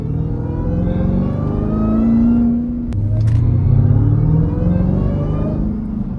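A Jeep Trackhawk cruising on the highway, its steady engine drone and road rumble carrying a sustained supercharger whine that swells slightly as the throttle opens, heard from inside the cabin with no talk.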